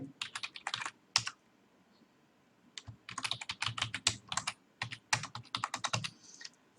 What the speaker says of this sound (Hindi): मैंने पासवर्ड डाल दिया, मैंने एंटर किया